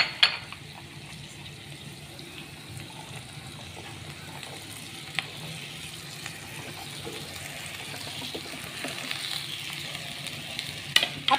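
Cut okra goes into a pan of hot oil with turmeric and fries with spices, a continuous moderate sizzle and crackle with occasional stirring scrapes that sharpen near the end.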